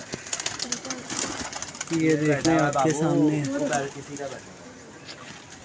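Pigeons coo at a club loft, the coos gathering into a burst at mid-clip over a crowded, rustling background, with someone talking near and loud at the start.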